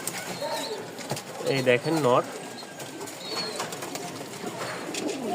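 A small flock of pigeons kept for sale coos softly close by, with a brief wing flutter. Someone speaks briefly over the birds.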